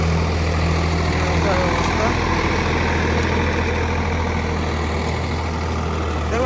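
Swaraj 744 FE 4WD tractor engine running steadily at 1300 rpm under load, a loud continuous diesel drone with a deep low rumble throughout.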